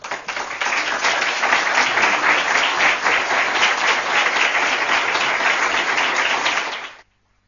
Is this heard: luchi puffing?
no